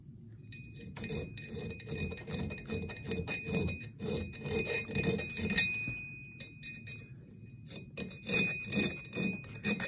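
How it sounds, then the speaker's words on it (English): A chainsaw file rasps against the steel edge of a double bit axe head in repeated close strokes, a gritty scraping with faint metallic ringing, steady and alone without speech. "And then I'll take my chainsaw file, and then that's where I'll get right in here."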